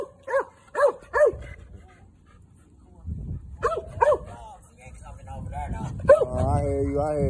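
A pit bull barks in short bursts, a quick run of three, then two more, with a whine and people talking nearby in between.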